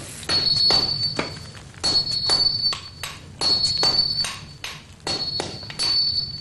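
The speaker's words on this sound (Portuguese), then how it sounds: "O aço reluzente é martelado e dobrado uma média de 14 vezes." Repeated ringing hammer strikes on a steel samurai sword blade being forged and folded, in quick bursts of several blows with short pauses, each hit leaving a bright metallic ring.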